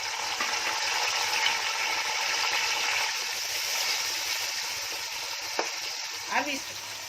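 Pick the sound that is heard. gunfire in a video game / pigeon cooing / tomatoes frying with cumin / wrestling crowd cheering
tomatoes frying with cumin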